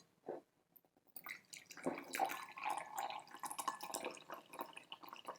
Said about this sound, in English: So let's go ahead and pour this out.